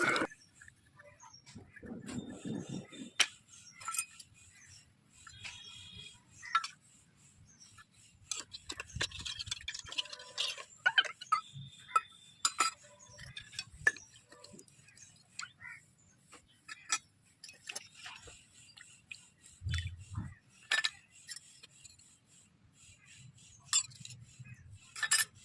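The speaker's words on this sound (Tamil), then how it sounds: "அப்பாடி, ஒரு வழியாக ஜாமானை கழுவி முடிச்சாச்சு." Dishes and utensils being washed, with scattered light clinks and taps of metal and crockery, sparse and fairly quiet, separated by hushed pauses.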